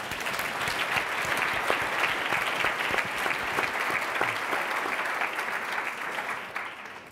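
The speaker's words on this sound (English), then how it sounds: "Let's give both of them a big round of applause again." Dense, sustained applause from a seated audience at a panel talk, steady and full for most of the stretch before thinning and fading at the end.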